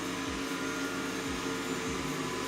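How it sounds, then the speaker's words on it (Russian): A Dreame Bot L10s Pro robot vacuum cleaner runs in quiet mode, giving a steady, fairly faint whirring hum with soft rhythmic brush sweeps. "В процессе уборки аудиального дискомфорта пылесос не доставляет, особенно в тихом режиме."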